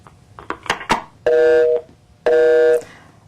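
A telephone rings twice with long electronic tones, loud and close, each lasting about half a second, after a few soft taps and clicks.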